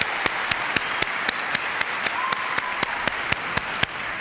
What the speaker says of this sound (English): let's have a round of applause for Mark Ruffalo